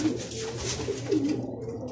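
Racing pigeons cooing at a loft as birds return from a Laoag race lap, soft low coos repeating close by over steady background ambience.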